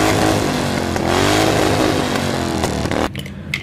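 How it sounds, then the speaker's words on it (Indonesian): An engine sound from a diecast Mercedes-Benz W123 model with a modeled 1800 cc carburetor engine, a loud, steady electronic engine drone with shifting pitch that cuts off abruptly near the end. "Kita dengarkan suara knalpotnya"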